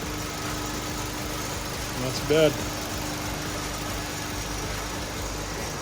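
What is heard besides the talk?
8th gen Honda Civic Si K-series engine idling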